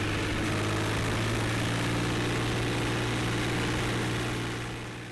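A 2003 Farmtrac Champion 35 tractor, with a 35 HP 3-cylinder 2.3-litre engine, idles in a loud, steady low rumble that throbs evenly throughout and tapers off slightly at the end.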